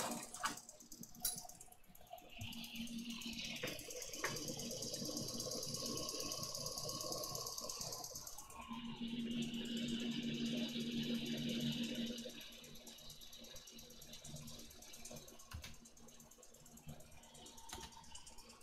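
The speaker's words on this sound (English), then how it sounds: "I'm right by the vacuum pump." A vacuum pump runs beside a scanning electron microscope in a lab, giving a steady, loud mechanical drone with a rapid clattering rhythm that persists the whole time, swelling slightly toward the middle.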